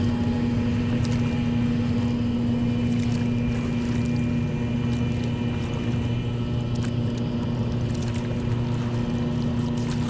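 Two boats moving along an iced-over canal near Gloucester Docks: a steady engine drone with a strong low hum running unbroken, heard close, without speech.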